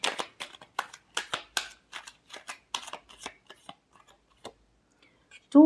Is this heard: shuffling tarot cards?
yes